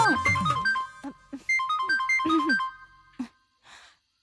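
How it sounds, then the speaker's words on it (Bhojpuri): A melodic mobile phone ringtone sounds for an incoming call at night, clear tonal phrases separated by brief gaps, loud and close, before trailing into near silence. "अरे दीदी कॉल आ गई।"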